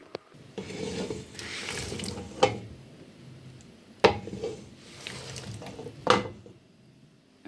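Tomatoes tipped into a pan of peppers while cooking tomato sauce, giving a few close clattering, splashing drops and knocks over a steady kitchen background, with sharper hits spaced a couple of seconds apart.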